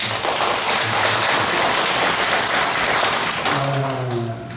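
A church congregation applauds the choir together in dense, steady clapping that fills the whole stretch; near the end, a sustained sung or spoken tone rises beneath it.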